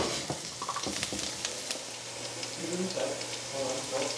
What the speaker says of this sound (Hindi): जिस तरह से हमने आलू को किया था उसी तरह से हम गाजर को भी फ्राई कर लेंगे।